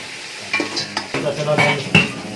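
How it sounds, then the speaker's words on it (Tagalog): Pork sautéing in a pan for boiled pork stew (nilagang baboy), with steady sizzling and frying under repeated stirring and scraping of a utensil against the pan, close and moderately loud. "Atin na lang siya gisa na hanggang madurog yan."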